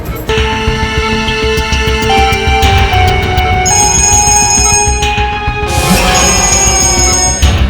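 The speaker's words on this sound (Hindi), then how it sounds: "डीसीपी चित्रोले साहब का बार बार फोन आ रहा है" A telephone rings loudly and continuously in an electronic ringtone pattern, heard alone with no voices.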